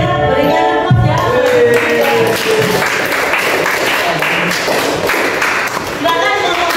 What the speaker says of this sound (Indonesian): berikan tepuk ya